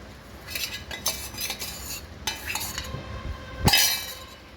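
Cabbage manchurian, fried cabbage pieces tossed in sauce, being stirred in a pan: a spoon scrapes and clinks against the metal in repeated close strokes, with one louder knock near the end and no talking.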